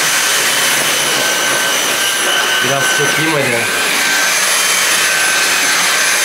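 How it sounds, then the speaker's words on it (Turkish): A Dyson vacuum cleaner runs loud and steady with a continuous broadband whine throughout, while a voice speaks briefly over it midway. "Dünyanın en güzel süpürgesi Dyson süpürgesi arkadaşlar."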